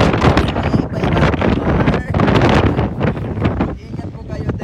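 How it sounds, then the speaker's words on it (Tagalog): Strong, gusty wind somewhere in Europe buffets the microphone as a steady loud roar that rises and falls in continuous bursts, with no clear talk above it. "Sobrang hangin dito na malakas ang hangin dito sa Europe."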